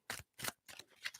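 A deck of tarot cards is shuffled in quick bursts, four short crisp riffling flutters close to the microphone, separated by brief pauses.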